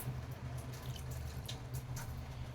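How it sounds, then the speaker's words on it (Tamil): Water sprinkled from a glass over salted cabbage in a cooking pan, a faint close patter of drips and splashes over a low continuous hum. "உப்பு போட்டுட்டு இது மாதிரி ஒரு 1/2 கிளாஸ் தண்ணியை மேலே இது மாதிரி தொளிச்சு விட்டுருங்க"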